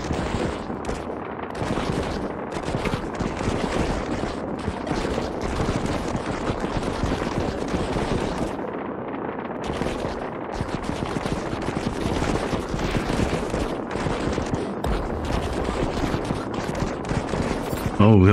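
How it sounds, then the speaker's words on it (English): Auto-firing weapons in the retro defense shooter Utopia Must Fall, a dense, unbroken barrage of rapid electronic gunfire that holds at a steady loud level throughout, with a couple of brief dips. "it auto shoots whenever enemies show up"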